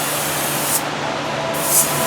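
Adhesive spraying onto the roof deck of a 37-foot 2009 Sandpiper travel trailer, a loud continuous hiss from the spray tip that holds steady without a break.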